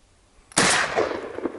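A single Mossberg 20 gauge pump shotgun blast fired at a rabbit during an outdoor hunt, loud and sharp after near silence, with a long echoing tail that fades slowly.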